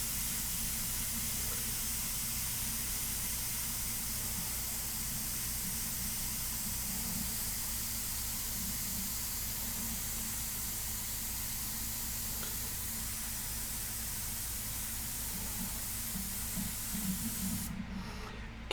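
An airbrush sprays India ink in a steady, unbroken hiss that holds close and even throughout, with no talking.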